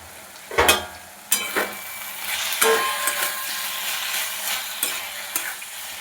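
A spoon stirs sugar into spinach curry cooked with onion and garlic as it fries in a pan, with a few sharp scraping strokes over a steady soft sizzle and no voices.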